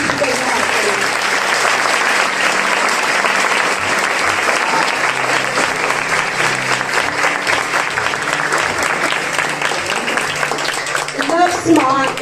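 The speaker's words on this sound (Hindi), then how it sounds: "तो तालियों के साथ अपनी खुशी का इजहार करें।" An audience at a Mother's Day sermon gathering breaks into sustained, loud applause that fills the whole stretch, with voices rising through the clapping toward the end.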